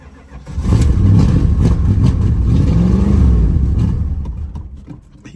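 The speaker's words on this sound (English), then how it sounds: "one of the mufflers is blown out, I think" A 1979 Chrysler 300 engine runs with a blown-out muffler, giving a loud, rough, low rumble that swells, holds steady for a few seconds, then fades as it idles down.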